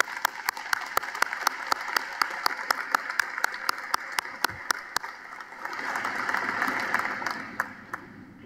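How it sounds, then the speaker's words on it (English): Commencement audience applauding at a 2022 university graduation ceremony, a steady wash of clapping with some sharper individual claps standing out, swelling slightly toward the end before fading. "please join me in a round of applause to congratulate her on her enormous accomplishments"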